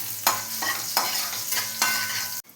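A tempering fries in a pan for a village-style taro root tamarind stew, a bright steady sizzle broken by several rhythmic stirring scrapes, close and clear, ending abruptly.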